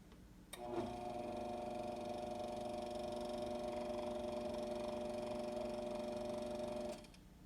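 A Vitamix blender runs at its minimum low speed with a blending bowl fitted, a steady mid-pitched motor whine starting abruptly and holding evenly for about six seconds before cutting off, close and alone.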